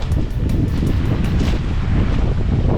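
A boat travels from El Nido to Coron in the Philippines, with a constant roar of wind buffeting the microphone over rushing water and engine rumble, loud and close throughout, with no voices.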